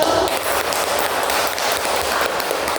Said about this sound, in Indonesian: Ayo beri tepuk tangan untuk guru.